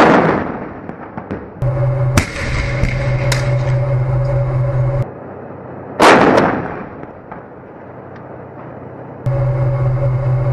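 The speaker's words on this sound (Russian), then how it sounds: "танки открывают огонь." Heavy tank cannon blasts boom out at about two, five and six seconds in a Syrian combat operation, each followed by rumbling decay, over a steady low engine drone.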